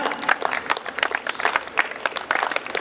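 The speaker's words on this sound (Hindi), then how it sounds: "तालियां कौन बजाएगा?" A live audience at a Hindi poetry show breaks into quick, lively applause, with distinct claps bursting in uneven clusters throughout.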